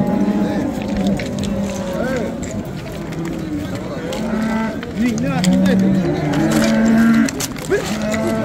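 Cows moo repeatedly at a busy Friday livestock bazaar in Pastdarg'om, Samarqand, with several low calls rising over constant crowd chatter and shouting.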